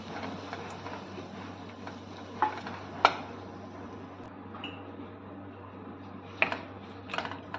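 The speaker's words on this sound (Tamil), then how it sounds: "அதையும் கொஞ்சம் நேரம் வதக்கிக்கலாம்" Ground masala being sautéed in a pan for mustard rice (kadugu sadam), a steady low sizzle with a few sharp scrapes and clinks of a stirring spoon, no talking.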